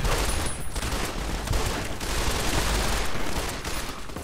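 Weapon fire in Fallout: New Vegas (modded), a worn gun shooting in a dense, continuous volley of rough bursts that stays loud and close throughout without pause.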